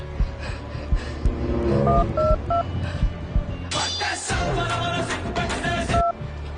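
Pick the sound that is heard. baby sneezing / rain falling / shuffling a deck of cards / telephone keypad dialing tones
telephone keypad dialing tones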